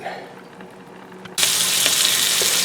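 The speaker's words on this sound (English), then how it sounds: "Here is me half sauteing the onions." Onions sautéing in a pan for a pot pie, a quiet sizzle that suddenly jumps to a loud, steady frying hiss halfway through, continuing close and unbroken.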